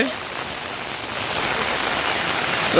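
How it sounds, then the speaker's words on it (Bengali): Heavy rain falling on a farm, a dense, even roar of drops on surfaces that continues without a break and grows slightly louder, with no talk. "এরকম বৃষ্টি হচ্ছে কালকে থেকে"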